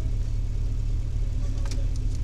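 An Alpine rally car runs at a historic hill climb at Ceyreste, its engine holding a steady mid-pitched drone close by for the whole stretch, with no voices.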